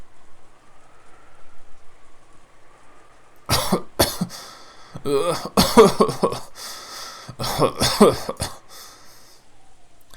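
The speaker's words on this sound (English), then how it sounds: "when an attack comes suddenly, she can't stop coughing anymore" A fit of harsh, repeated coughing bursts in clustered groups from an asthma attack in a video game, close and loud, with quiet gaps and breathing between them.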